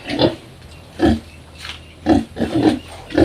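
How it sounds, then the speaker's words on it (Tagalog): Pigs on a farm grunt and snort nearby in a series of short, irregular bursts, several close together near the end. "Ayan mga kaparmers yung aking mga baboy."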